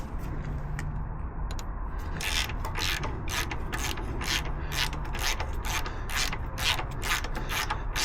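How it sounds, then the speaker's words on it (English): A ratchet wrench undoing bolts on a Harley-Davidson motorcycle's swing arm area, rapid repeated clicking bursts close up, quiet between strokes, with no talk. "So I'm just going to undo some more bolts and let's see what happens."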